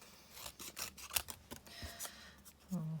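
Quiet, close snips of scissors trimming paper around a stamped flower image, several short crisp cuts spaced irregularly, with a faint hum underneath.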